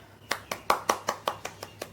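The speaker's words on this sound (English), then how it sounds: "Clap, children." A group of children claps hands in a steady, fairly fast rhythm of about nine sharp claps that fade slightly toward the end, moderately close and alone without talk.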